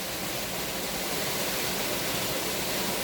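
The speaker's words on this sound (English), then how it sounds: "spend some good time in this natural sound of waterfall" Queens Waterfall near Siatbakon in Meghalaya, India, pours with a steady, broad rushing roar of falling water. It is close and even, with no voices.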